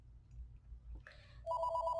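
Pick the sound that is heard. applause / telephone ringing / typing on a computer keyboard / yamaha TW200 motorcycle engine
telephone ringing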